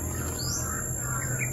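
Crows calling in a horror video game, a few thin caws rising over a steady electronic hum and low background rumble, moderately faint and without speech.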